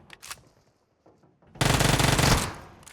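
Automatic gunfire from a rifle in PUBG Mobile erupts in a loud, dense sustained burst lasting over a second, preceded by a few faint isolated shots and soft in-game noises.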